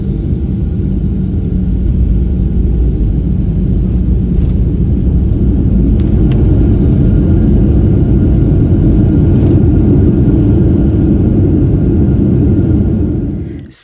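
Inside an airliner cabin during descent for landing, a loud continuous low engine rumble and airflow roar holds steady for over ten seconds before dropping off abruptly at the end, with no voices over it.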